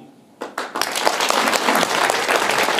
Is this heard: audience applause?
yes